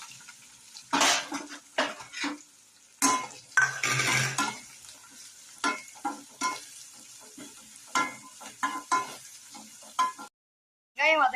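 Chopped onions sizzle in hot oil in a pan while being stirred for chicken upkari, with repeated close scraping strokes of a utensil against the metal, irregular bursts separated by brief pauses.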